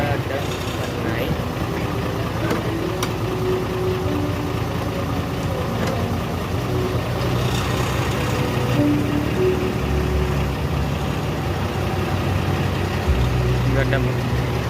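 Heavy equipment engine idling and then revving as throttle is applied after the clutch is slowly released, a continuous mid-level mechanical drone with rising pulses and a deeper surge near the end, heard under quiet background talk.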